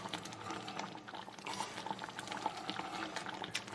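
Gravy of stock and turkey drippings simmering in a pan, a steady close bubbling and popping with a soft continuous hiss.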